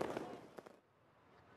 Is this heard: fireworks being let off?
yes